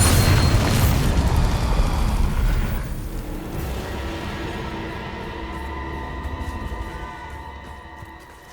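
A loud Bombarda spell blast in the Hogwarts Legacy game opens with a heavy booming explosion, then fades into a rumbling, ringing tail.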